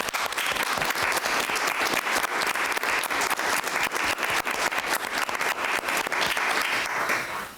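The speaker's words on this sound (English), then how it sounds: "let's give him a round of applause right now" Applause at a city council meeting, a dense run of clapping from the room with crisp individual claps standing out, steady for several seconds before tapering off at the end.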